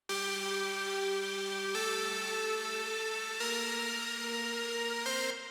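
A sustained, bright Serum synth lead plays slow held notes, stepping through four pitches over a few seconds, with no voices present.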